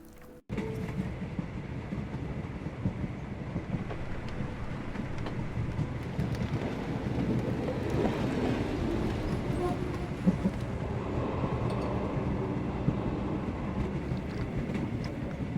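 Train running in the Sherlock Holmes: The Awakened video game, a steady rumbling clatter that kicks in abruptly after a brief quiet and rolls on continuously, with a thundery, rain-like wash and occasional sharp knocks.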